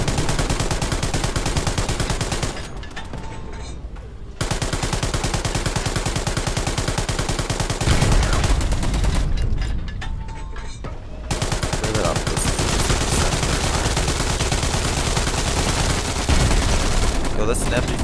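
An MG42 machine gun in the WWII shooter Hell Let Loose fires long, rapid, dense bursts at close range, broken by short pauses, while players talk over the gunfire.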